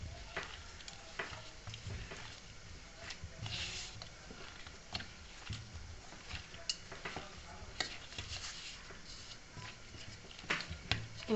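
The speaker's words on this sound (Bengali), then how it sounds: "একটুখানি নাড়িয়ে দিলাম।" Yogurt mixture gets stirred in a bowl for yogurt luchi dough, with faint, soft scraping and small clicking taps repeating steadily throughout and no talk.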